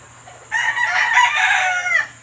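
Sweater Gold gamecock rooster gives one loud, close crow lasting about a second and a half, rising sharply and holding strong before cutting off, with a low steady hum underneath.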